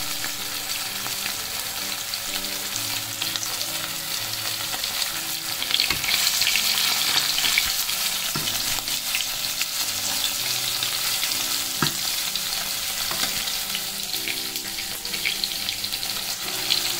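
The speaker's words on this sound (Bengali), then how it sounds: "মাছগুলো ভাজা বসিয়ে দিয়েছি" Fish frying in a pan in a home kitchen, a steady bright hiss of sizzling oil running throughout with occasional clinks and shifts, fairly close and alone without talk.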